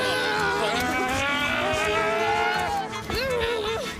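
Several children's voices imitate revving car engines together, a loud, continuous overlapping drone with rising and falling pitch.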